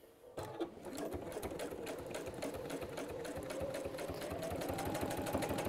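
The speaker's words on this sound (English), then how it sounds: "I'm just going to top stitch that down on here." Sewing machine topstitching fabric, starting abruptly and then running steadily with a fast, even needle rhythm, close and clear, with no talking.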